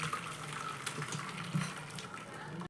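Water pours off boiled leafy greens as they are drained, a close, steady splashing trickle with a brief louder gush midway.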